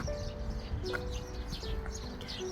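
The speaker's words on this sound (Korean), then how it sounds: "이 동네는 새소리가 엄청나게" Birds chirp and tweet along a walk toward Cheonjusan mountain, several short, bright calls scattered over a steady outdoor background, fairly close and moderately loud.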